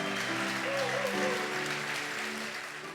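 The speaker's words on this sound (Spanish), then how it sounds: "Dele un aplauso al Señor en este tiempo." Congregation applause at a Sunday church service, a broad steady clapping wash lasting throughout, with some voices and music tones underneath, tapering slightly toward the end.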